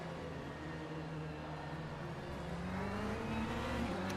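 An LMP2 race car in a racing video game drones past on the Spa circuit during a 3-hour race, with a steady rising engine note, loud and continuous, while another engine hums underneath.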